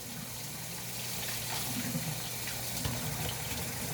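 Water runs steadily from a kitchen tap into a sink while dishes are washed, a constant hiss with faint clinks mixed in.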